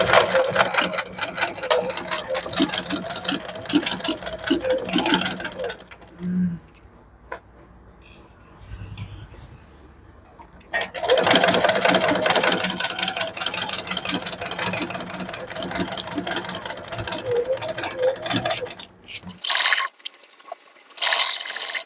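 Sewing machine stitching a princess-cut blouse neckline in rapid, steady mechanical runs, pausing midway with soft handling sounds, then resuming, close and loud.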